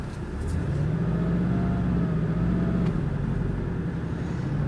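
A Porsche 718 Boxster pulling away from rest, its engine making a steady, loud low rumble close by. The rumble rises slightly as the car accelerates and then holds, with no talk.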